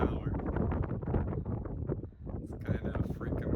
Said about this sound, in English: Whoa, it's getting windy up here in the tower.